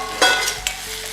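Egg poured into hot oil in a pan for a Tamil egg and dry fish curry, giving a sudden loud sizzling burst that settles into a steady crackling fry with a second brief flare.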